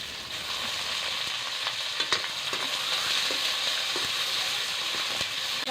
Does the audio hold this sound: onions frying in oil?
yes